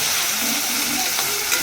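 Onion and tomato gravy for pepper chicken sizzles steadily in a pan, with a close, continuous frying crackle and occasional stirring scrapes, no voices.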